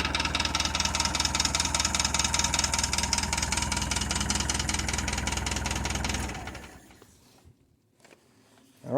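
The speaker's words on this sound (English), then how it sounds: "Tractor's running again." A tractor engine running after a starter motor repair with a new Bendix fitted, a steady rhythmic diesel-like idle chugging loudly up close for about six seconds, then cutting out and falling quiet.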